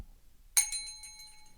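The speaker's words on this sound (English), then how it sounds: "You gotta ring the bell." A single bright bell strike rings out once, close and clear, its metallic tone decaying over about a second against a quiet room.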